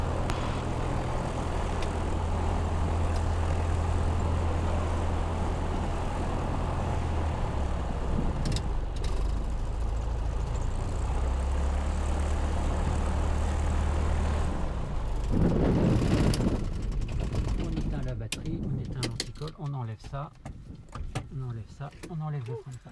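A light aircraft's steady low engine drone runs at idle for most of the clip at Soissons airfield, with a brief louder surge near the end before the sound thins out and winds down.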